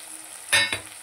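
Tomato and onion frying in a pan as turmeric, salt and spices go in, a steady soft sizzle with a sharper hiss and stir about halfway through.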